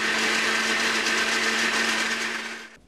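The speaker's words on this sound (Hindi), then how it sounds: "इसको सिर्फ हमने एक मिक्सर में पीसना है।" A mixer grinder whirs loudly and steadily, blending soup with boiled potato, then spins down and cuts off at the end, with no talking.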